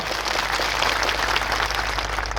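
A crowd at an outdoor rally claps for police workers in dense, steady applause that holds at an even level throughout, with no voices standing out.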